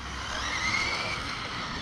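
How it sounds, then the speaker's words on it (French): Tires of a Serpent 811 LWB nitro RC car with an 8s 1500kv setup spin and screech against the ground in one continuous hissing skid, close and loud, with no break. "T'as vu, j'ai fait fumer mes pneus."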